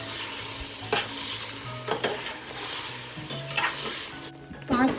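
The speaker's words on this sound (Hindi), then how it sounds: "और इसको मिक्स कर लेंगे।" Raw chicken mixed with yogurt in a bowl gives soft wet squelching and stirring strokes, close and irregular, with a faint clink of a spoon against the bowl.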